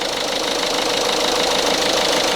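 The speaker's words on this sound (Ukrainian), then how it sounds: "Двигун працює в принципі непогано." A Peugeot Partner van's diesel engine idles steadily up close, a constant loud rumble with a fine knocking clatter and no variation.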